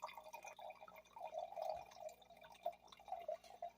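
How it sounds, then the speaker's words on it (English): Smoking Loon Merlot red wine pours roughly through an aerator into a glass, a faint, steady bubbling trickle with soft drips and no talking. "So an aerator with a rough pour, got the bubbles."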